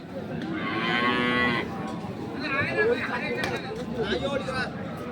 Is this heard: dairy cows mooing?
yes